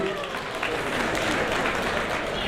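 An audience at a formal address gives sustained, dense applause, loud and continuous throughout with no break in the clapping.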